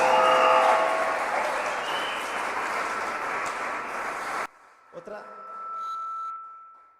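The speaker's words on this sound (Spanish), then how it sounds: "Demos un aplauso al Señor" A church gathering's audience applauds in a dense, fairly distant wash of clapping that cuts off abruptly partway through, leaving near quiet with a faint tone and a few small knocks.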